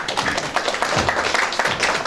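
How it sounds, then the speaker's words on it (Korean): Welcoming applause from a county town-hall audience for the arriving county governor: dense, steady clapping from a crowd, continuous and fairly close, with faint voices mixed in. "군수님 나오실 때 환영의 박수 한 번 더 쳐주시기 바랍니다"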